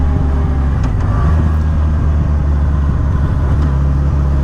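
A 2007 Yamaha FJR1300 motorcycle cruises along with a loud, steady engine drone and a constant rush of wind and road noise, heard from the rider's position.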